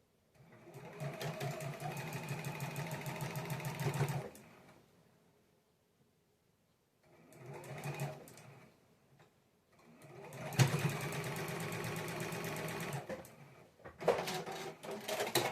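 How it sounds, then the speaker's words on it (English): A sewing machine stitches a quarter-inch seam on quilt pieces, running loud and steady in three bursts with short silent pauses between them. "I will sew 1/4 inch seam this way"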